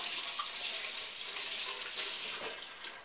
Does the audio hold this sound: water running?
yes